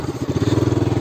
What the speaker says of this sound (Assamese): বাইক চলাব এতিয়া মই ইয়াত উঠো